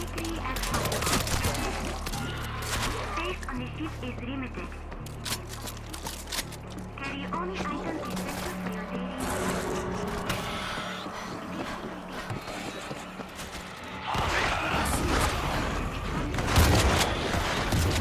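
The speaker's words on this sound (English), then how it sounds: "Those shots came from the highway." Gunfire from a highway in World War Z crackles in repeated bursts at a distance amid dense game noise, rumbling booms and footsteps, with voices talking over much of it.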